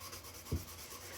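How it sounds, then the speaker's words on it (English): An air rifle's wooden stock is hand sanded in two short, separate rasping strokes, close and fairly quiet. "Now it's time to start sanding."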